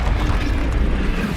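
A Confringo fire spell blasts in Hogwarts Legacy, a dense, sustained rumbling roar with booming low end, loud and steady throughout with no clear gaps.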